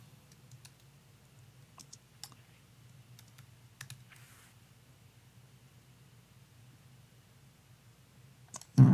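A song name is typed on a computer keyboard, giving sparse, faint key clicks in short clusters over a quiet background hum, ending with a louder knock.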